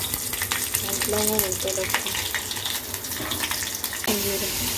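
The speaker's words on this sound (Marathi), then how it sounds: "लसूण कांदा मिरची कढीपत्ता थोडं जिरं हे सगळं परतून घ्यायचं तेलामध्ये" Cumin, garlic, onion, green chilli and curry leaves sizzle and spatter steadily in hot oil for an Indian breakfast chutney, with brief stirring scrapes over a constant crackling hiss.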